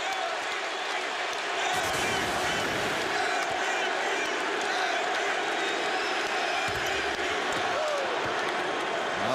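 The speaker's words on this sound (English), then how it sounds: "here come the chants once again from the Cavalier crowd" Loud arena crowd of Cleveland Cavaliers fans chanting and roaring during a 2006 NBA playoff game against the Wizards, a dense sustained wall of voices with scattered thuds beneath.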